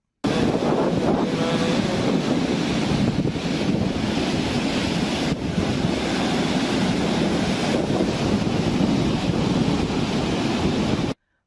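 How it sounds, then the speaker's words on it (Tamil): Rough, surging sea waves on the Bay of Bengal coast of Tamil Nadu during a storm, a loud, continuous roar of surf with heavy wind buffeting the microphone throughout. "ஆக்ரோஷமான வங்கக்கடல் தமிழக கடற்கரையில் கடல் சீற்றம்"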